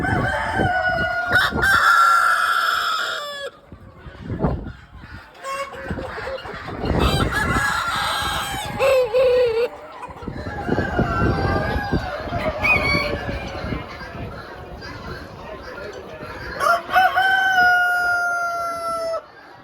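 Several roosters at a chicken auction crow repeatedly, overlapping loud cock-a-doodle-doos close by, with clucking and shuffling between calls.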